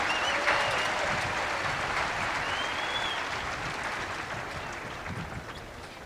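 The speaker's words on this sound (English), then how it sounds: "how about a round of applause for the class of 1975" A large outdoor crowd applauds at a West Point graduation ceremony, a broad, continuous roar of clapping heard from a distance that slowly fades, with a faint cheer or whistle rising above it.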